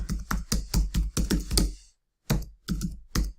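A plugin search is typed on a computer keyboard: a quick run of about nine crisp, close key clicks, a short pause, then four more taps, with no talking.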